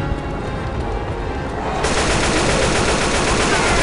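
Dense, continuous gunfire from the video game Left 4 Dead 2, with rapid shots packed into a loud, unbroken roar that grows even heavier partway through.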